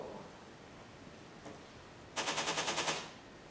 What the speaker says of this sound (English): the counterpart sound would be these ripples that have been filtered to have only one regular onset, you know, of these bursts in time.